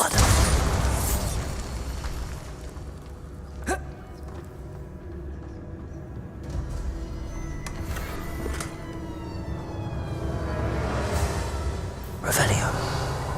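A Bombarda blasting spell goes off in Hogwarts Legacy, giving a sharp burst around four seconds in and another near twelve seconds, set against a dense, steady game-sound bed.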